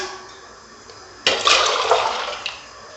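Water splashes and pours into a pot of lentils for sambar for about two seconds after a quiet start, a steady rushing stream that tapers off.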